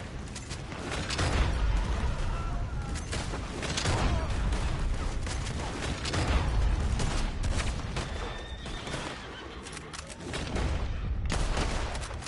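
Gunfire in the Red Dead Online video game comes as scattered cracks and bursts over a busy, loud game soundscape of mechanical clatter and rumble, with no one talking.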